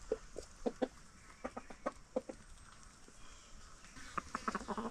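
Chickens on a farm yard, including a loud white rooster, give a series of short clucks and sharp calls in irregular bursts, fairly close, over quiet outdoor background.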